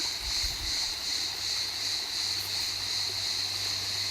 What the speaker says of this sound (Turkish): Taşların arasından akan su.